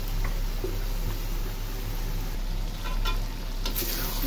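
Kala bhuna meat with potato and tomato sauce fries in its own released oil while being stirred: a steady, close sizzle with scraping stir strokes throughout and no voices.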